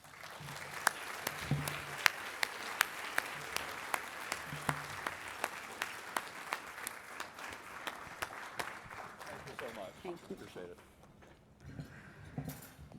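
An audience claps steadily in welcome for a speaker, a sustained wash of applause with sharp individual claps standing out, fading toward the end as a voice begins.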